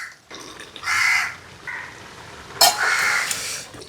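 Crows caw outdoors near open-air cooking of a Kerala pork dish, several loud harsh calls in two bursts, close by, with no talk.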